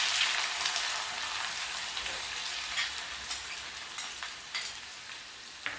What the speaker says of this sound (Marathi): आता मी जिरं मोहरी टाकते आता कांदा ॲड करायचा